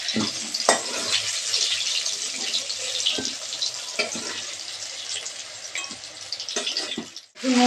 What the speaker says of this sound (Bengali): বেগুনগুলো কড়াইতে দিয়ে দিলাম।